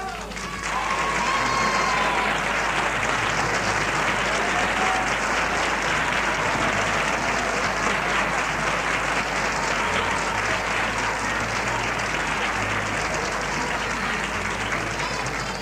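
A radio studio audience applauds for Candela, steady dense clapping that swells quickly and holds at full strength throughout without letting up.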